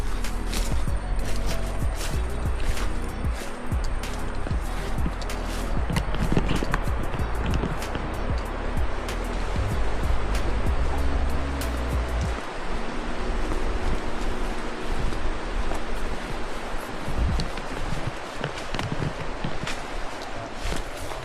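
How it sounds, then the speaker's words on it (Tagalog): A river flowing nearby in mountain country, a loud, steady broadband rush of water that fills the whole stretch, with occasional thumps and footsteps along the way. "Malapit na tayo dito sa mismong ilog."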